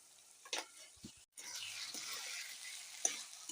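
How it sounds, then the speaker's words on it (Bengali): A vegetable curry is stirred in a pan after sugar goes in, a faint, steady sizzle with soft scraping and a brief drop-out partway through, close by and quiet, with no voices. "চিনিটা দিয়ে ভালোভাবে নেড়ে নামিয়ে নেব"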